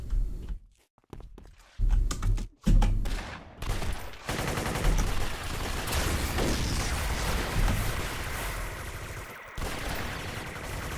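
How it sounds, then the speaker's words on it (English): Grenade blast and rapid gunfire in the City of Heroes video game, with scattered shots and impacts early, then a long dense barrage of automatic fire and explosions. "Just a grenade to make sure he's down."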